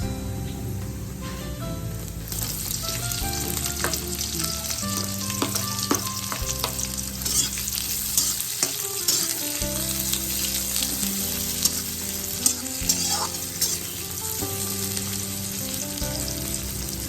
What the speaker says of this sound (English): The next thing we'll add is the onions.